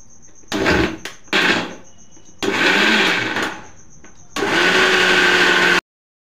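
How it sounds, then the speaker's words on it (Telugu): A mixie grinder blends eggs and sugar for egg pudding, loud close whirring in several bursts of one to two seconds, stopping and restarting, ending abruptly. "తర్వాత మిక్సీ పట్టుకోవాలి."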